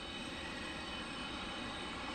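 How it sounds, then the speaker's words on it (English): A Boeing 717 jet arriving at Detroit Metro airport gives a faint, steady, distant rumble that stays even throughout the short stretch, with no voices over it. "And here comes another 717."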